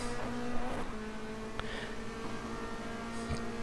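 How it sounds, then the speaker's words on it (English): A Renault Clio race car engine in the rFactor2 sim racing game at Barbagallo, a steady high-pitched engine drone held near-constant with a faint engine note underneath and no talk. "Hear the Clio engine screaming."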